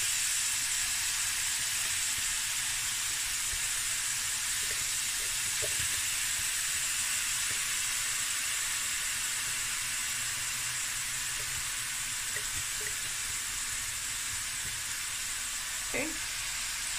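Onion, garlic and peppers fry with a clove and a cinnamon stick in a bean bredie pot, giving a steady broadband sizzle that holds for the whole stretch, with a few small clicks and stirring taps.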